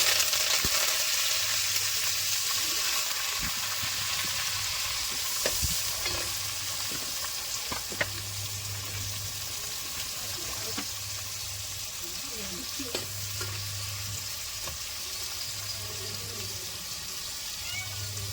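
Onions, curry leaves and coriander sauté in hot oil for a madavai (mullet) fish curry, giving a steady close sizzle with repeated stirring scrapes and clinks. A low hum runs underneath.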